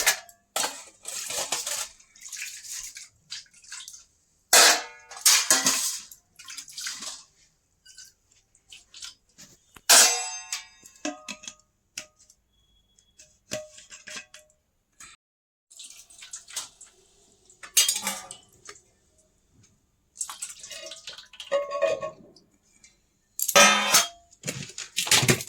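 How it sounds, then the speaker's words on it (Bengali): Cutlery clinks and scrapes against plates as rice is served at a home meal of chicken and dal, coming in scattered, sharp bursts with quiet gaps and no talk. "চলো ভাত বেড়ে দিই।"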